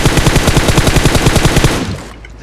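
An M4 rifle fires a long, loud automatic burst in the mobile battle-royale game PUBG Mobile, shots evenly spaced and rapid before cutting off abruptly into near silence.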